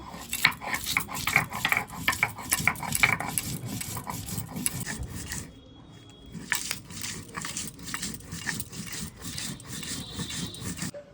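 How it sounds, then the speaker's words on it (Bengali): Green chillies are ground into a paste with steady, rhythmic rubbing and grating strokes, close and fairly loud. The strokes break off briefly partway through, then resume at the same pace. "কাঁচা লঙ্কাগুলো বেটে নিচ্ছি বেটে নিচ্ছি"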